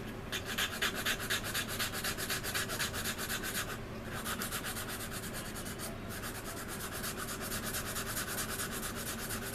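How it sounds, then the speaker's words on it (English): A sanding stick rubs back and forth over a glued seam on a plastic Anigrand C-124 Globemaster model kit, in quick, even strokes with one or two short pauses, close and quiet, no voices. "Take your sanding stick, sand that seam out nice and flush."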